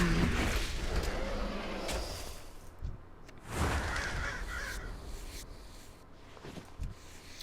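Crows cawing in the video game World of Warcraft: several harsh caws scattered through the scene, carried over a busy layer of in-game ambient sound.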